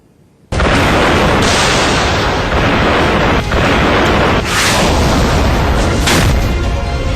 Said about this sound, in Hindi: मिसाइलों और बमों के ताबड़तोड़ हमले ने पूरे सीरिया को सर्वनाश की ओर धकेल दिया है।